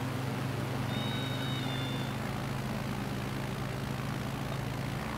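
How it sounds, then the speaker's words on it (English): A light aircraft engine droning at full power in Microsoft Flight Simulator over Las Vegas, a continuous loud propeller hum with a steady low tone and broad hiss throughout. "Oh, full power, full power. Ah, the plane screaming."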